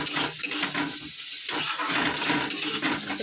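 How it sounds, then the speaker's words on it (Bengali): Eggplant fries in a pan with a loud, steady sizzle, broken by short scraping and stirring noises close by. "সকালবেলা খাবো বলে বেগুন ভাজবো"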